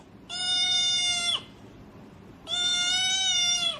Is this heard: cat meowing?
yes